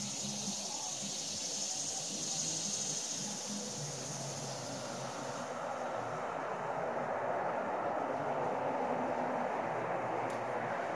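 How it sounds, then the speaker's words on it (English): Late-summer cicadas in Louisville, Kentucky drone in a steady high buzz that eases after the midpoint, over a low background rumble in the distance. "That was some of the sounds of late summer, the cicadas winding it down."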